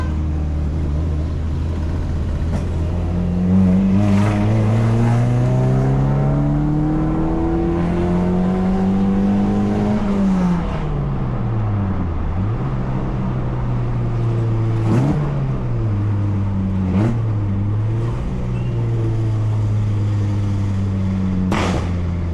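A Honda Civic accelerates repeatedly, engine revs climbing and falling in long sweeps, with stumbling dips and sharp catches where the motor misfires under throttle; no talking, just the car's drone close and loud.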